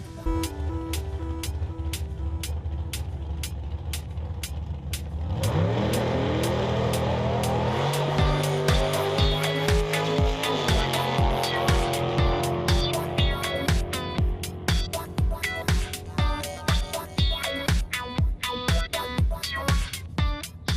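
A dragster race car roars loudly, its engine building from a steady rumble into a harsh, rising acceleration laced with rapid, sharp crackling pops that continue to the end.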